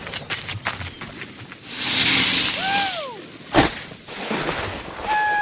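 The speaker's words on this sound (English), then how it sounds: "that's someone digging his new ski gear from REI" Someone digging out new ski gear in a wintry outdoor setting: a rushing, wind-like noise swells for a couple of seconds, a brief sharp scrape or thump follows, then steady breezy noise with a faint whistling tone.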